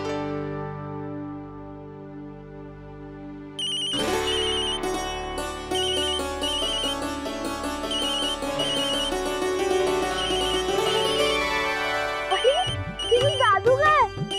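A phone ringtone plays loudly and steadily for about ten seconds, a repeating melodic electronic tune that starts abruptly after a quiet, sustained musical tone, with a brief voice near the end.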